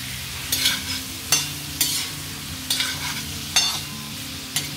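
Green chutney and chicken liver being stirred in a frying pan, a steady sizzle broken by about eight rhythmic scraping strokes of a spoon, close and alone with no voices.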